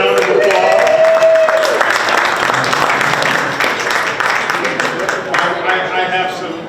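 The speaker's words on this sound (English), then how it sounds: "please give us a round of applause for the most fabulous co-chairs, Lindsay Harding and Rick Vaughn" Applause at a 19th Hole reception after the Weingart Golf Classic fills the room as a steady, loud wash of clapping from a crowd, with voices cheering and talking through it and slowly easing off toward the end.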